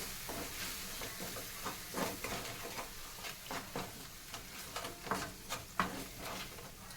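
Tomato rice ingredients with salt being stirred together in a hot pan, a soft sizzle under repeated scraping strokes at an irregular rhythm, close but fairly quiet, no talking.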